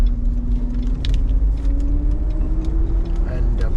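An electric car driving, a low steady road rumble with a faint rising motor whine, heard from inside the cabin under a person talking.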